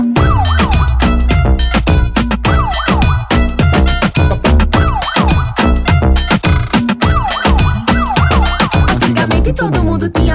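A wailing siren sound effect used in a song, rising and falling repeatedly over heavy pounding beats and a loud bass line, with no voices.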